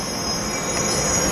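A train pulling into a San Diego station gives a steady, loud high-pitched wheel squeal that lasts throughout, with rumbling railcars underneath and no voices.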